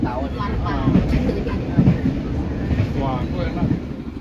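Steady low rumble of a 1998 economy-class train carriage running along the Jogja–Malang line, heard from inside, with a continuous rolling drone and faint rhythmic clatter under someone talking.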